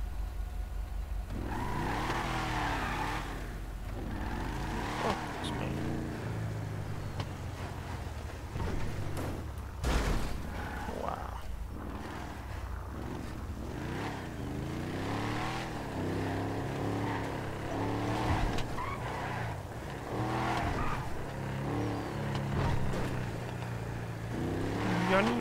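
Game engines roar and rev as a Dodge Ram TRX and Durango Hellcat race in GTA, a throaty, shifting drone with repeated acceleration swells, steady and close throughout.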